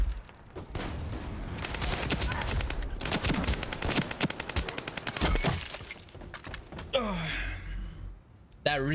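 Rapid bursts of M5 rifle fire in Modern Warfare 2, sharp repeated shots in long volleys amid game effects and mixed with players talking and gasping.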